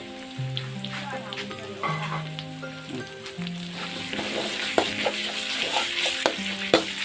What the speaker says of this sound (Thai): มาคั่วกระเทียมแล้วผม จะ ใส่หมูสับแล้วครับผม ใส่หมูสับไป นิด หน่อย นะ ครับ